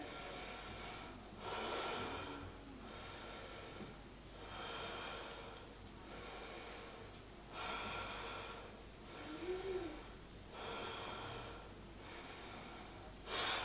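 Slow, deep breaths during a yoga high lunge, about six long inhale-exhale cycles in a steady rhythm, close and fairly quiet with soft hiss in each breath and no talking.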